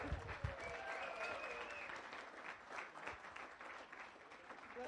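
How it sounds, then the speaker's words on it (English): An audience at a Las Vegas Rotary Club meeting gives warm, sustained applause during a fundraiser announcement. The clapping is dense and fairly soft, with a few voices faintly mixed in. "Please give her a big round of applause."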